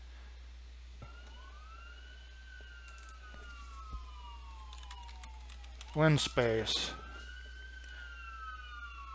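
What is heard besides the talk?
passing sirens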